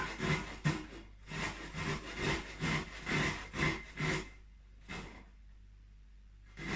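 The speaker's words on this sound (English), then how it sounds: "We'll grate some ginger." Fresh ginger root scraped against a grater in a home kitchen, a run of rhythmic rasping strokes, close and fairly loud, then a short pause before one last stroke.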